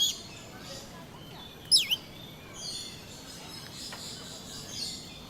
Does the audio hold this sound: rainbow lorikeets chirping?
yes